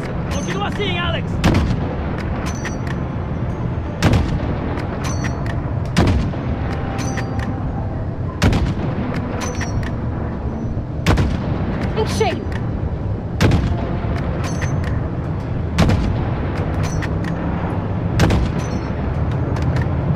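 Heavy gunfire from a Call of Duty: Modern Warfare campaign battle, with loud sharp shots and booming blasts repeating irregularly over a dense, continuous roar of combat noise.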